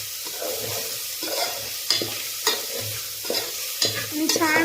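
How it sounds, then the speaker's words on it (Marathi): Horse gram pulao with salt being stir-fried over a high flame in a pan, heard as repeated sharp spatula scrapes at a roughly regular rhythm over a continuous close sizzle; no talking. "आता मी याला थोडं हाय फ्लेम वरती परतते।"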